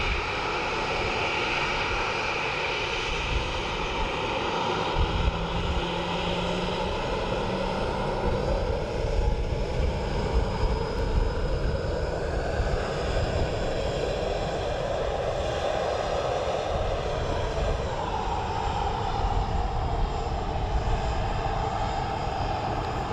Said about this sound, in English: Ryanair taxiing to Sierra 5.